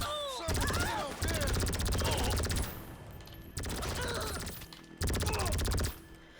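Gunfire in GTA 5, loud rapid bursts of automatic shots in three long volleys separated by brief lulls, with a voice speaking faintly among them.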